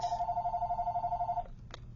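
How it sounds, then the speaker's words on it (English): A home telephone rings with a continuous pulsing electronic tone that stops abruptly, followed by a brief faint click. "the phone is going to ring now, because why not?"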